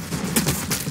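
A sniper rifle firing in the Roblox-style shooter Arsenal produces a few sharp, loud cracks in quick succession, each a short broadband burst with a brief tail.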